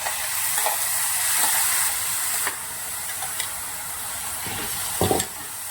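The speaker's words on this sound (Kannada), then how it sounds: "ಈ ಟೈಮಲ್ಲಿ ಮಸಾಲೆ ರುಬ್ಬಿರೋ ಮಸಾಲೆನ ಹಾಕ್ತಿದ್ದೀನಿ." Ground masala paste fries with golden-brown onions in a pan for paneer butter masala, a loud steady hiss with a few spoon scrapes and a clatter of stirring near the end.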